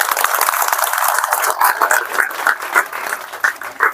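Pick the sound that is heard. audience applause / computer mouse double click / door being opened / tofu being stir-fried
audience applause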